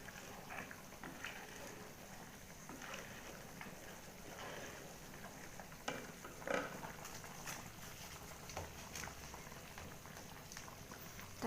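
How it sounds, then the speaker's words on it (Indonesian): A pot of cassava leaf curry is heating toward a boil, giving a faint, steady bubbling hiss with soft crackles and occasional small pops. No one speaks. "Sudah mau mendidih ya."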